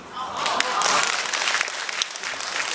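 Applause from a concert audience at a Beijing show themed on the children of Yan'an swells quickly to a dense peak and then carries on steadily, with a voice speaking over it.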